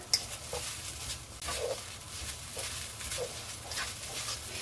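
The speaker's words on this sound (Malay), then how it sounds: "Bila kita goreng macam ni" Steady hiss and crackle of fish frying in hot oil in a pan, continuous and fairly close, with faint occasional clicks from a utensil.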